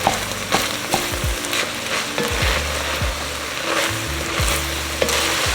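Fresh chopped basil and garlic paste sauté in a pot for lasagna soup, a steady close sizzle broken by scraping stirs and the knock of a wooden spoon against the side.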